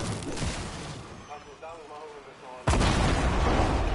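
Gunfire in a video game, with a loud, dense burst of shots erupting late and continuing to the end after a quieter stretch of game sound; voices talk underneath.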